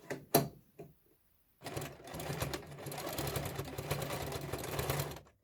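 Sewing machine stitching fabric for a bow headband, a short tap first, then a steady close mechanical whirr of rapid stitching for several seconds before stopping.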